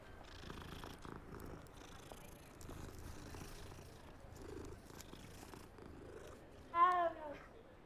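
A cat in the Hogwarts Legacy video game purring softly when petted, a quiet continuous rumbling purr throughout, ending in a short louder meow-like cry near the end.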